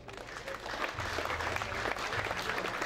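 Applause welcoming an under-20 youth football team at an outdoor community event, a dense wash of crowd clapping that swells after the first second and stays steady, with a low hum underneath.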